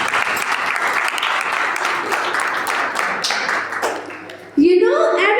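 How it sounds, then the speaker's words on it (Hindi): Church congregation applauding together during a Christmas sermon, steady dense clapping that fills most of the stretch before cutting to a brief burst of other sound at the end. "तालियां बजा सकते हैं।"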